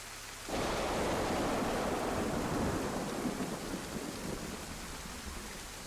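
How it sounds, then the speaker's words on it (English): Steady broadband rain hiss in the survival game DayZ, starting abruptly after a brief quiet moment and continuing loud and unbroken, with a faint low rumble beneath. "we're out of the rain for a minute"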